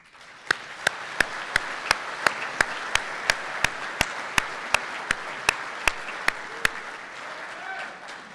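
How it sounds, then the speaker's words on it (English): Audience applause at a graduation recognition ceremony, steady clapping from a crowd throughout, with a sharp near clap repeating at a regular rhythm on top of the wash, loud and unbroken. "thank you, and a big round of applause."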